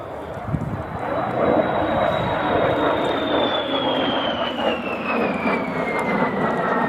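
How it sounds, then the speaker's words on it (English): A de Havilland Vampire T11 jet with a de Havilland Goblin engine passes at an air show with a loud roaring rush and a prominent high whistle that slowly falls in pitch as it moves away. "There is that whistling sound from the de Havilland Goblin engine."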